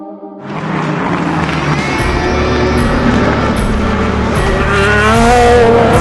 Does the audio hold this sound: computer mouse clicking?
no